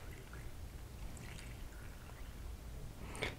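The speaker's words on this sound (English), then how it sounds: "So I'm going to pour my developer into my tank." R3 monobath developer is poured slowly into a film development tank, a faint, quiet trickle of liquid with a soft splash near the end.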